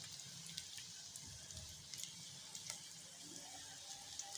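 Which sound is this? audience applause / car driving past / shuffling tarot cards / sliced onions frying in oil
sliced onions frying in oil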